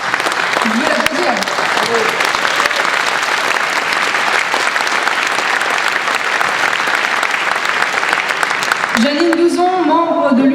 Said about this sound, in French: Janine, 12 ans, je veux l'applaudir.